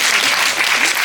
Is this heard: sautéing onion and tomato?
no